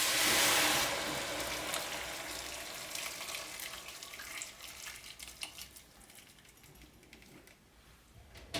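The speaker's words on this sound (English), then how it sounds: "I put the florets in a pot and pour boiling water over them." Boiling water is poured over broccoli florets in a cooking pot: a short splashing rush, then a quieter, uneven trickle and bubbling that fades away. The sound is fairly faint overall.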